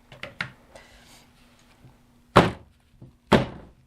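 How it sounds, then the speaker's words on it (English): An object banged on a table to knock out air bubbles, two heavy thuds after a few lighter taps and knocks, close and loud in a quiet room. "if you feel like you have a couple of air bubbles, we bang it on the table"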